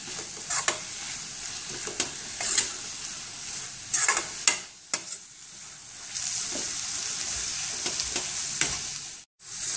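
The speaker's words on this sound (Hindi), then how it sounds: "अभी हम मेथी को थोड़ा पकने देंगे।" Fenugreek leaves (methi) sizzle and fry in a pan for a methi stuffed paratha, with a steady hiss broken by repeated stirring scrapes and clatters throughout.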